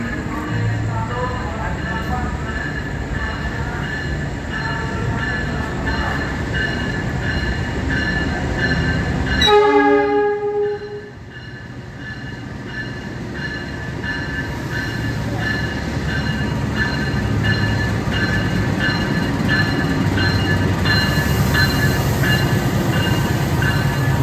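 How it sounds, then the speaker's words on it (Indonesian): Mutiara Selatan passenger train pulling into a station platform, a steady rumble of wheels and carriages with a prolonged tonal horn blast before a sudden drop, then continued rolling noise and some station announcements. "Kita lihat keretanya masuk yuk."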